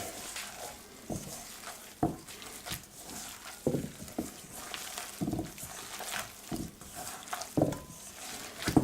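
Meatball mixture for Spanish albóndigas being mixed with egg as a binder, giving irregular wet squelching and slapping pulses close by, with a soft tap or clatter now and then and no talk.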